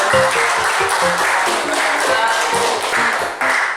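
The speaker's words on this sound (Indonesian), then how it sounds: "berikan aplaus buat" A classroom group claps for a presentation, a dense burst of many hands clapping at once, loud and close, steady for several seconds with a faint voice underneath.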